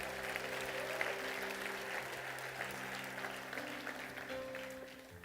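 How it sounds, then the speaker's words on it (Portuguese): Church congregation applauding together, a steady wash of clapping held for several seconds at a fairly distant, moderate level, with a faint sustained tone underneath. "aplauda o nome dele."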